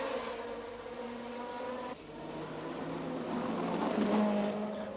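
Race cars at the 1969 Monaco Grand Prix droning past with steady, layered engine noise. The whine builds toward the end, then a sharper high note cuts in near the close.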